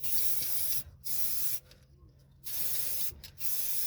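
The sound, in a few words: copper grease aerosol spray on brake hub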